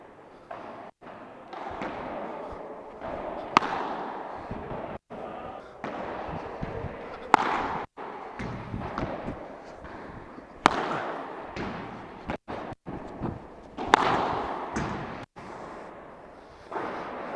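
Padel ball striking a Cork padel racket during a rally, with sharp repeated hits and bounces spaced a few seconds apart against court ambience.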